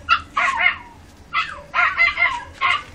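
A dog barks at a cat in short, sharp bursts, several loud yelps in quick clusters separated by brief pauses, close by and with no talking over them.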